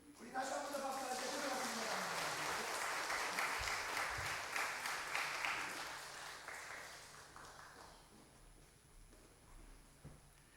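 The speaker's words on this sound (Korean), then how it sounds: "우리 다시 한번 더 박수 할게요" A church congregation claps in celebration during a Korean Sunday morning worship service after a baptism, the dense applause loud at first and then thinning and fading away, with a few voices underneath.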